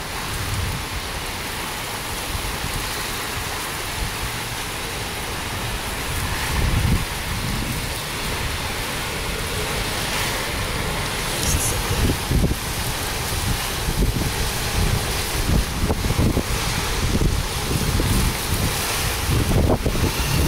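Heavy rain and strong wind roar through a June storm, a dense continuous wash of rain with gusts buffeting the microphone, growing rougher as the gusts strengthen, with no talk.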